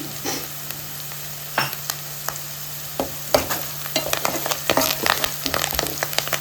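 Onions frying in hot oil with turmeric and curry leaves for a green chicken curry, a continuous sizzle broken by sharp spoon scrapes and clanks against the pan that grow busier toward the end.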